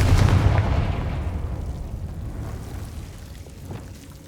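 A Confringo blasting spell explodes in the Hogwarts Legacy video game, one heavy booming blast that opens loud and rumbles deep, then decays slowly over several seconds.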